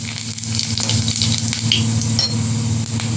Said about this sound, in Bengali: তেলের মধ্যে এখন আমি গোটা মশলা দিয়ে দেবো গরম মশলা জিরা আর শুকনো লঙ্কা ফোড়ন দিয়ে দেবো